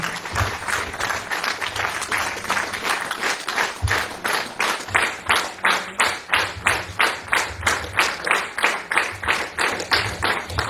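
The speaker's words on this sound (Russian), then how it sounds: "эти аплодисменты вам" Audience applause at a book presentation about the ensemble Dyuz-Ava, starting as loose clapping and settling into a strong rhythmic, unison clap that swells and continues steadily, loud and close throughout.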